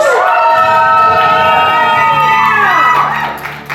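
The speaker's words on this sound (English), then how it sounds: "for the audience here, we got to really start cheering them on here" Convention game show audience cheering and whooping loudly for a contestant going for a big prize, a dense sustained roar of voices and shouts that fades slightly near the end.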